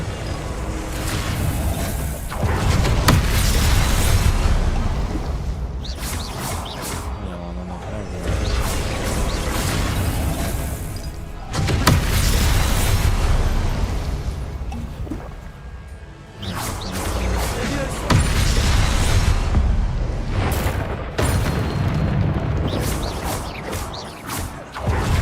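Confringo blasting spells fire off in Hogwarts Legacy, producing loud, dense, continuous crashes and whooshing blasts with repeated booming impacts that swell and recede across the stretch, with no voices standing out.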